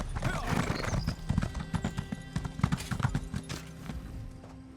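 Hooves clip-clop steadily as a horse is ridden in Elder Scrolls Online, with a whinny and jangling tack near the start, the rhythmic hoofbeats close and prominent.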